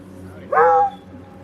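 A guard dog at a stormy campsite gives a single short whimpering yelp, sharp and close, cutting briefly above a quiet background.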